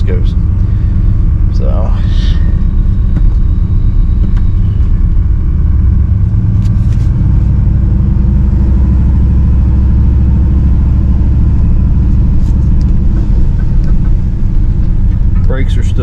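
An old 1964 Pontiac Grand Prix with questionable brakes is driven on a ride, its engine giving a loud, steady rumble throughout that swells slightly midway, with a brief spoken word near the start.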